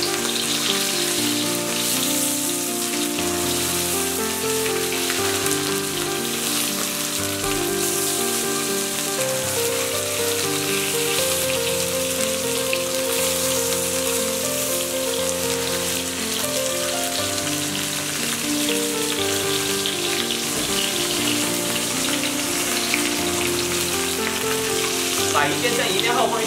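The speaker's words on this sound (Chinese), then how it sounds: "重新起锅，放一些油， 要把鱼放进去煎。" Sea bass for a Cantonese stir-fry fries in oil in a wok, giving a continuous, dense crackling sizzle that runs throughout under steady background music.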